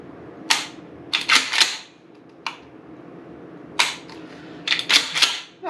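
Dry-firing a Mossberg 590 Shockwave SPX 12-gauge shotgun with its thumb safety: sharp, close mechanical clicks, some single and some in quick clusters of two or three, separated by brief quiet pauses.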